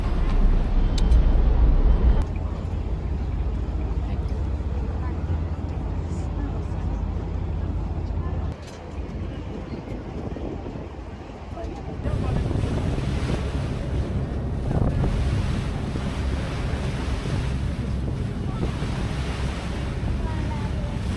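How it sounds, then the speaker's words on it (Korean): A ferry cutting through the water of Sydney harbour, with steady rushing wake and wash under strong wind buffeting, a continuous broad roar that dips briefly midway then swells louder again. "페리가 시원하게 물살을 가르며 앞으로 나아갑니다."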